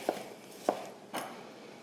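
A knife dices tomatoes on a cutting board in a quiet home kitchen: three soft, separate chops spaced about half a second apart, close and faint, with no talking.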